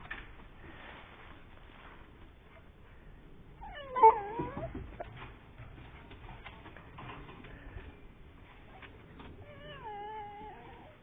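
Puppies from a litter whimper and whine in a few faint high cries, with one louder yelp partway through, heard up close in a quiet room.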